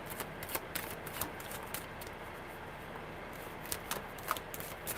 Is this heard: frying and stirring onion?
no